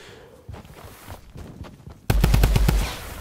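Rapid bursts of Fortnite gunfire crackle loudly in quick succession after a quieter stretch of soft footsteps and movement.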